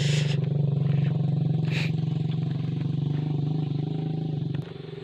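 A motorcycle engine idles steadily nearby on a muddy mountain road, with a low, throbbing putter, then drops slightly in level near the end.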